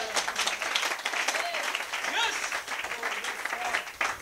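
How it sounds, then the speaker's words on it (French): A church congregation claps and cheers in praise, a loud, dense burst of applause with a few voices calling out over it, sustained for the whole stretch. "Est-ce qu'on peut donner une bonne main d'acclamation au Seigneur?"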